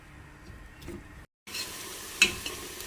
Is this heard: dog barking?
no